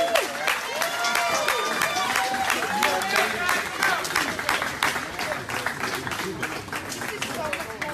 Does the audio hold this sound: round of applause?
yes